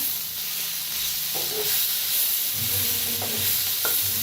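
Egg mixture with chopped coriander roasting in a pan, a steady close sizzle with a few scraping stirs of a spatula, no voices.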